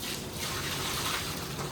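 Water pours steadily and continuously into a small drum, making a close, even gushing rush with no talking, as it is filled to soak sheets for mushroom growing.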